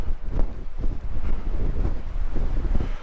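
Strong wind on the coast near Portland Bill on a day under a wind warning, a continuous heavy buffeting rumble hitting the microphone in gusts, loud and close, with no voices.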